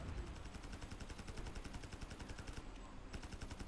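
Rapid automatic gunfire from the Call of Duty Mobile video game crackles in fast, repeated bursts at a low overall level, with no talking.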